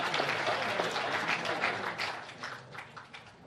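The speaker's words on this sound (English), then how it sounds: "I think I'll ask you to hold your applause till I get to the end of the list" Audience applause at a school prize day, a loud, thick burst of many hands clapping that gradually thins out and fades toward the end.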